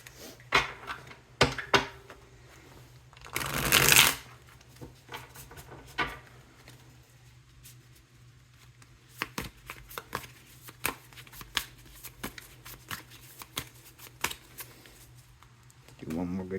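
A tarot deck being shuffled up close, with scattered soft card flicks and taps, one longer riffle burst, then irregular light clicks and shuffles at low volume.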